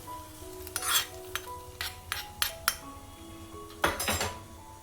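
A spoon stirring and mixing a mixture in a bowl after ginger and garlic tempered in oil, a series of scraping swishes and sharp metallic clinks in irregular bursts, close and fairly quiet with no talking.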